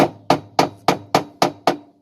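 Seven evenly spaced, sharp metallic hammer blows while a tub is knocked out of a Hitachi washing machine, loud and close with a steady rhythm and no speech.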